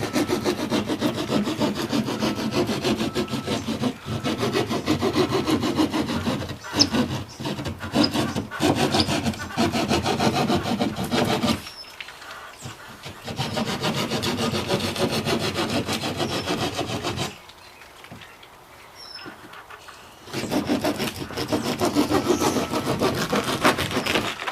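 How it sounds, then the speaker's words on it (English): A keyhole saw rasps back and forth through water-damaged ceiling drywall in quick, steady strokes, close and loud, with two brief pauses where the cutting stops before resuming. "Keyhole saws work good, but they do kick up dust."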